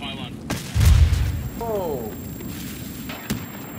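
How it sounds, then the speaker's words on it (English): A grenade blasts in Escape From Tarkov near a bunker and pylon, one deep, heavy boom that rumbles off, followed by scattered faint shots while a voice speaks briefly. "someone just threw a grenade at us"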